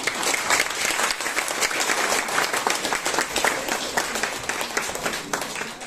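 Sustained applause from a crowd at a 55th birthday celebration for Rajyogini BK Anu didi, a loud, even wash of many hands clapping nearby for several seconds without any talking.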